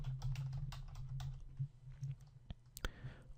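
Soft, quick keystrokes on a computer keyboard pattering in uneven runs over a low hum, close but quiet, with a few sharper clicks toward the end.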